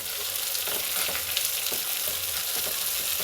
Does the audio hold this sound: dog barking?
no